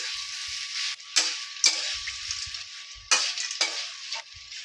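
Veg chop filling is mixed with crushed fried peanuts in a pan, with a soft continuous sizzle broken by several sharp spatula scrapes and clacks at uneven intervals.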